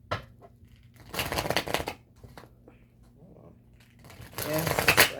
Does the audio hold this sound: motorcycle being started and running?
no